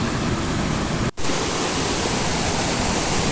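A cold, glacier-fed mountain stream in the Gupis Valley of Gilgit-Baltistan rushes past close by. Its dense, steady broadband hiss holds with no voices, broken only by a momentary gap near the start.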